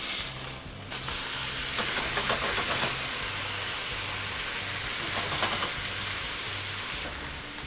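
Steak sizzles steadily in a very hot pan after being flipped, a loud, close, continuous frying hiss with faint stirring clatter and no talk.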